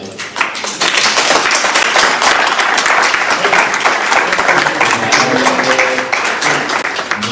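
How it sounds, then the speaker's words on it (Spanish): A church congregation bursts into sustained applause, a dense wash of many hands clapping that starts abruptly and stays loud and steady throughout. "Me gustaría que le dieran un aplauso al Señor."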